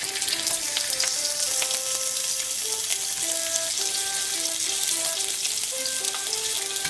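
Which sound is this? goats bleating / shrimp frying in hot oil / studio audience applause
shrimp frying in hot oil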